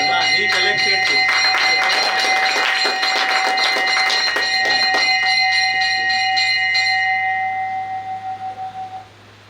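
A school bell at Prabodhan Vidyalaya, Daryapur, is struck by hand in quick repeated blows, loud and ringing with a sustained metallic tone that fades away after the strikes stop.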